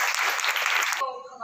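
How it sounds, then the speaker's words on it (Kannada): Audience clapping at a bhajan group's function, a dense burst of many hands for about a second that cuts off abruptly, followed by a brief tonal sound. "ಅದಕ್ಕಾಗಿ ಎಲ್ಲರೂ ಜೋರಾಗಿ ಚಪ್ಪಾಳೆ ತಟ್ಟಿರಿ"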